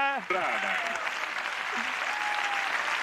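A studio audience applauds during a comedy prank call to a call center, a dense steady wash of clapping that fills the clip after a brief voice at the start, with a faint tone drifting underneath.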